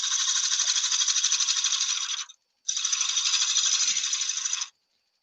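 A woodturning tool takes a light cut on a spinning lathe workpiece, making two close, steady hissing, rattling passes separated by a brief pause.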